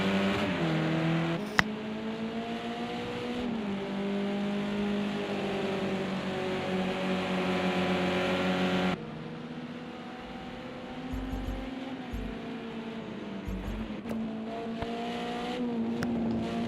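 Touring cars race in the video game Project CARS 2, engines droning and revving through gear shifts, then a cut to a quieter scene with a different engine tone and scattered low thumps.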